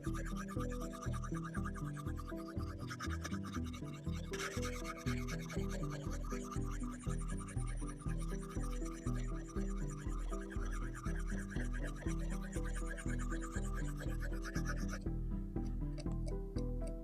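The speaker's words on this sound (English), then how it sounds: "this stone feels completely different with oil" A knife blade is sharpened on an oiled whetstone, giving steady, rhythmic back-and-forth scraping strokes, close and continuous.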